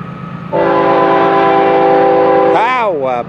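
An FEC101 freight train led by a pair of GEVO 800-series locomotives rumbles past close by at a Michigan Street crossing, its horn sounding one long steady blast and then a short bending second blast over the continuous rolling noise.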